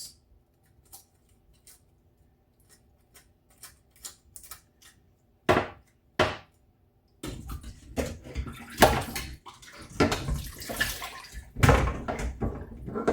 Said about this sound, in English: and then just run the tap and rinse it